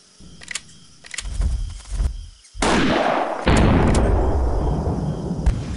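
Rifle gunshots in the PC hunting game Hunting Unlimited 2011: a few sharp cracks, then a loud blast followed by a rolling, echoing boom that lingers and tails off.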